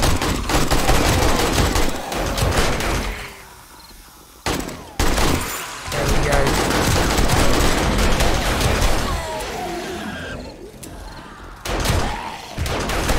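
AK rifle fire in the video game 7 Days To Die: loud, rapid bursts of automatic shots with brief pauses between volleys.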